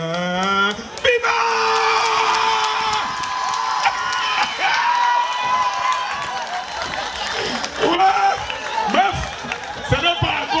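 An audience at an event applauding and cheering for a pastor, a dense crowd roar of clapping, whoops and shouts that keeps going, with an amplified voice speaking over it.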